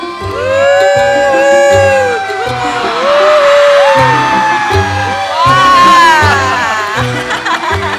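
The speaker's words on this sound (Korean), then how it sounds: "박수로 환영해 볼까요?" An audience at a Netflix village-festival fan event for the drama 폭싹 속았수다 loudly cheers and whoops to welcome an actor, with shouts and excited voices rising and falling over a continuous crowd roar.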